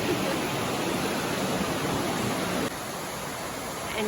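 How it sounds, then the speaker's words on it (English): A small waterfall in a park gives a steady rushing wash of falling water, broadband and continuous, with a slight drop in level partway through. "And here's yet another waterfall."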